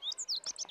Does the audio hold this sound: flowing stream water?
no